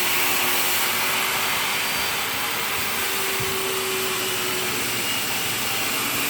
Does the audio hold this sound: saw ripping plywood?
yes